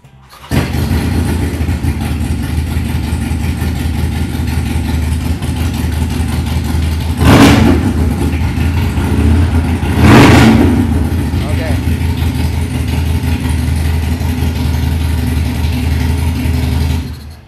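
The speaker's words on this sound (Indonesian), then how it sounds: "suara dari Harley Davidson Sportster 48" A Harley-Davidson Sportster 48 motorcycle engine runs loudly and steadily with a deep rumble, swelling in two brief revs partway through.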